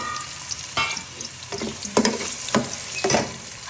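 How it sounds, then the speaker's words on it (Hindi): Carrots frying in oil in a pan for Afghani pulao, a steady sizzle broken by several sharp scraping stirs of a spoon at regular intervals, close and moderately loud with no voices. "तो अभी मैं गाजरों को करती हूँ फ्राई"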